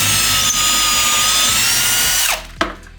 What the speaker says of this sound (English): So these are 1/4 inch lag bolts, so I'm gonna use a 1/4 inch bit. And we're gonna drill in about 3 inches or so.